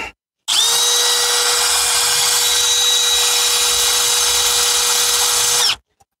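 A step drill bit grinds into hard metal in one continuous high-pitched whine, loud and steady for about five seconds before stopping abruptly, with silence on either side.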